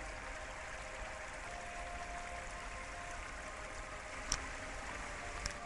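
A forest brook fed by a spring emerging from a hillside, a faint, steady trickle and babble heard from close by, with a couple of small clicks and no talking.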